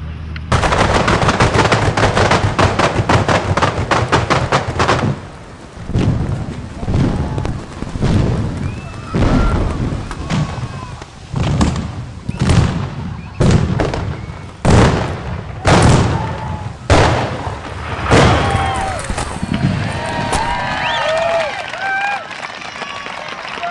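Paint cannons fire in a loud, rapid barrage of sharp blasts for a Sony Bravia paint advert shoot, followed by scattered bangs tapering off, with voices briefly heard.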